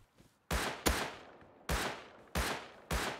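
Gunfire in the survival video game Rust: five sharp, loud shots spaced irregularly about half a second to a second apart, each with a short decaying tail, no voices over them.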